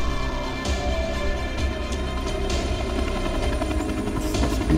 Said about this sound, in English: Chopper coming down.